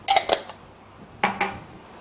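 A metal spoon mixing salt into idli-batter paniyaram dough in a bowl, heard as two short bursts of close, bright clinks and scrapes against the vessel with a quiet pause between them.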